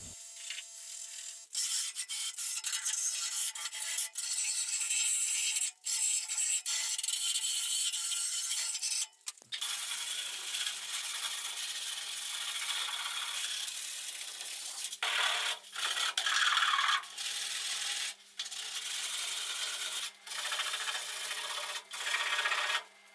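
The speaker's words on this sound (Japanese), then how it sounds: "仕上げは手作業120番のペーパー使ってます。" Hand sanding the body of a Mazda RX-7 FD3S under restoration with 120-grit sandpaper, a steady close rasping rub in long continuous strokes with brief pauses, no talking.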